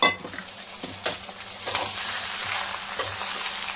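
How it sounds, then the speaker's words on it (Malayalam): Masala being stirred into chicken varavu in a pan: a sizzling fry punctuated by several sharp spoon knocks and clinks against the metal, close and fairly loud, with scraping strokes throughout. "നമുക്കിത് ചിക്കനിലേക്ക് ഇട്ട് കൊടുത്ത് നന്നായിട്ട് മിക്സ് ചെയ്യാം."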